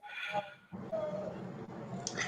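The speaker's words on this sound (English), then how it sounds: "I'm sorry if you can hear my dogs in the background." Dogs whimper and yip in the background, faint and close, with short high whines over a low steady noise.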